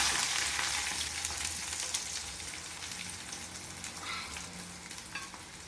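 Chopped onion, garlic and green chilli fry in hot oil in a pan, giving a dense, steady close sizzle that fades slightly over a few seconds, with no voices.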